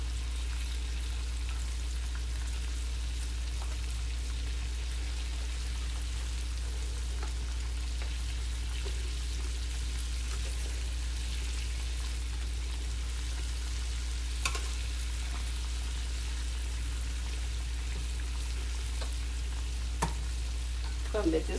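Onion bloom petals fry in hot oil with a steady, even sizzle and crackle that runs unbroken, joined by a low hum and a couple of faint clicks.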